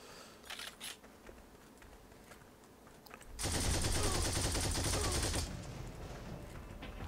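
An MG42 machine gun fires in a video game, a dense sustained burst of rapid shots lasting about two seconds and far louder than the quieter scattered game sounds before and after it.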